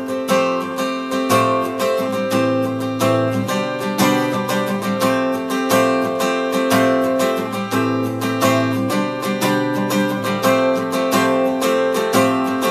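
Acoustic guitar strumming an intro chord progression, a steady, dense rhythmic pattern played close and loud with no voice, continuing throughout.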